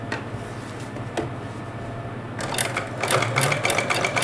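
A sewing machine stitches a quilt, whirring lightly at first and then running faster and louder in a sustained mechanical buzz.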